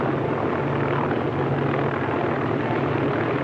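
Four radial piston engines of a WWII B-29 Superfortress bomber warming up, each rated at 2,200 horsepower, make a continuous, heavy droning roar with a low throb, steady and loud from start to finish.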